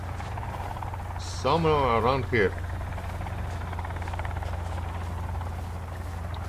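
A helicopter flies in the survival game Sons of the Forest, a steady low rotor drone droning on throughout at moderate level while someone briefly speaks over it.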